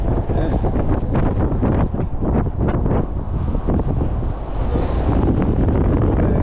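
Strong cold wind buffets the microphone in continuous loud gusts at Parc Astérix, a roaring rumble with no pauses throughout.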